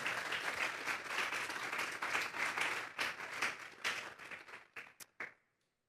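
A church congregation claps together in sustained applause, dense and steady, then breaks into a few scattered final claps before falling silent.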